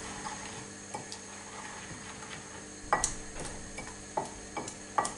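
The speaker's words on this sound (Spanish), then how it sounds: "Removemos bien." Lamb offal being stirred in a pot with spices and white wine, a quiet scraping rumble broken by a few sharp clicks of the spoon against the pot's side.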